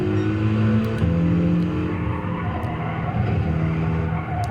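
A race car engine in the Gran Turismo 7 driving game, droning loudly and steadily with shifting tones as it revs and eases off through corners. Faint clicks and tire noise sit beneath it.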